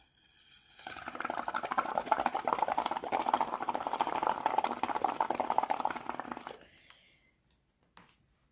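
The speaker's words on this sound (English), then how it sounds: "And then I took a straw, I blew bubbles." A straw blows bubbles into soapy water tinted with food colouring, giving a close, steady gurgling burble for about six seconds before it stops abruptly and leaves near silence.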